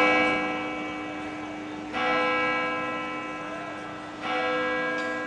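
A large bell tolls at noon over a market square in Gangjin, South Jeolla, with two clear strikes whose ringing tones hang and fade between them, loud and resonant.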